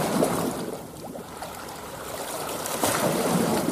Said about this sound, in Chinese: 浪多大，有没有点海边的感觉